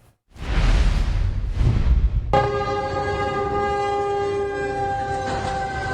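A train bears down on a truck stuck across the tracks in Lebanon County, a loud rumble giving way to a long, steady multi-tone horn blast that holds near and strong to the end.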